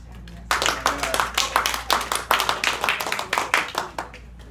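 A small classroom group claps in a loose, uneven rhythm of distinct hand claps, fairly close and moderately loud, starting after a brief quiet pause and continuing for several seconds with faint voices mixed in.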